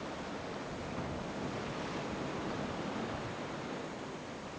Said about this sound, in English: Those waves are crashing right up against the wall.